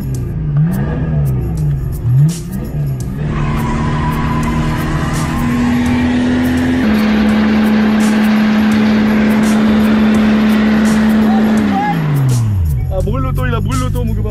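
Diesel car engine with an unstable idle, running close and loud, dipping and swelling before being revved up to a held higher pitch, which then sags back down as the engine settles unevenly.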